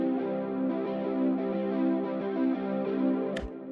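Electric guitar run through the free TAL-Chorus-LX plugin, a Juno-style chorus, for a dreamy wide sound: sustained, shimmering chord tones held steadily and fairly loud with a slow, wavering modulation, ending in a brief sharp click.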